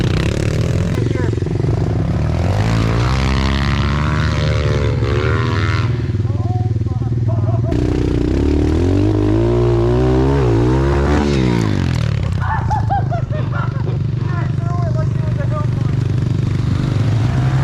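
Pit bikes ride through the woods on New Year's Day, their small engines revving up and down loudly and close throughout, with wind noise over a helmet-mounted camera.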